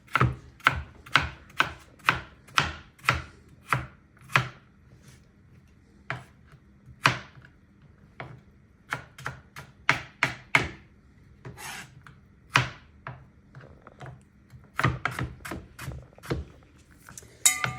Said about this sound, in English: I just kind of chop them up little and fill in the gaps